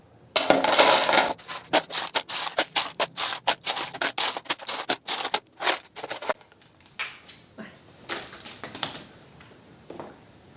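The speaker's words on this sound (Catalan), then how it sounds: "començarem a posar pedretes de la peixera pel voltant" Small aquarium pebbles are set down around a plastic card, making dense close clicks and rattles that come in quick bursts and then thin out into sparser ticks, with no talking.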